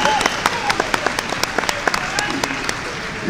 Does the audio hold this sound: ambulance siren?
no